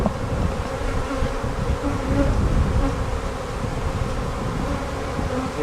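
Honeybees buzz thickly around a hive that may be preparing to swarm, a loud, close, unbroken drone with many overlapping wingbeats and slight swells in intensity.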